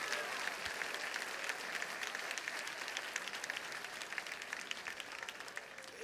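Church congregation applauding at a Tuesday worship service, dense sustained clapping from a large crowd filling the whole stretch at steady loudness.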